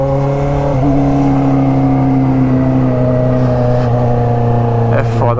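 A remapped pink Honda Hornet motorcycle with a straight exhaust revs hard and close, a loud, steady, raspy engine note with small rises and falls in pitch, while people talk over it.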